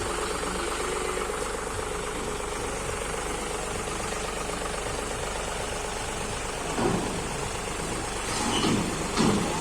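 A John Deere 5210 tractor engine idles steadily on a trailer, a continuous low diesel rumble with faint knocking that holds even throughout, a couple of brief louder bumps near the end.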